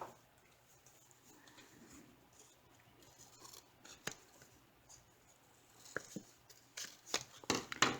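Scissors snip paper corners for a 6 by 6 inch chunky mini album pocket, quiet scattered cuts and rustles that grow into a quick cluster of sharper snips near the end.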